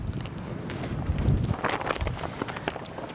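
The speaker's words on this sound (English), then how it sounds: "Windy out here today." Gusty wind buffets the microphone outdoors on a golf course, a steady low rumble swelling in the middle with faint scattered rustles and no clear talk.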